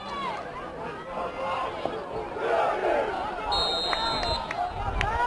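A crowd at a high school football game, Kingston against Port Angeles, gives off a rising roar and scattered shouts under a commentator's voice, with a brief whistle-like tone near the end.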